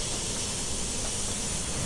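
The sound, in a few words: steam locomotive hissing steam on Saluda grade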